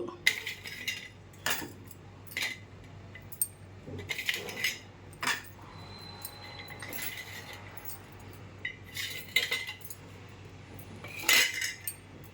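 Raw tamarinds and coconut pieces drop into a container in short clattering bursts, with hard pieces clinking against the vessel at irregular intervals between quiet gaps.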